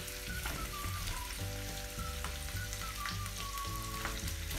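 Large boiled, cut potato pieces sizzle in hot oil in a frying pan for a north Indian spiced potato dish, a steady, crackling fry throughout with faint tonal sounds beneath.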